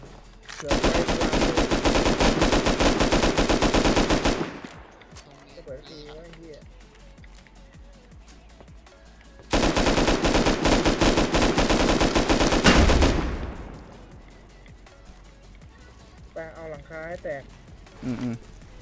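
Machine-gun turrets in Rust unleash two long, loud bursts of rapid automatic fire, each lasting several seconds, with quieter gaps where players talk over the game sounds.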